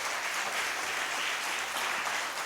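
A church congregation at a Sunday service breaks into loud, sustained applause, a dense wash of many hands clapping throughout without pause.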